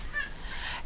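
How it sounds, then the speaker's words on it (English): A needy cat gives a short whiny meow in the background, brief and moderately loud over faint room noise. "you can probably hear my cat in the background"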